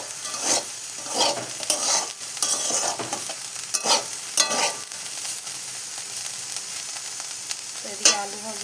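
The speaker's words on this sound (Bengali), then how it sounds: "এইদিকে দেখো আলু ভাজা বসিয়েছি" Potatoes frying in a pan, a close steady sizzle broken by repeated clattering stirs and scrapes of a spatula, fairly loud, with no talking.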